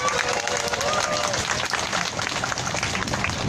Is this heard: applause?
yes